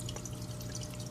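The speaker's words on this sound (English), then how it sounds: "there's a pump right here that pumps the water back up" Steady trickling and splashing water from an aquarium sump pump returning water up to the fish tank, a constant low gurgle with faint drips and no talking.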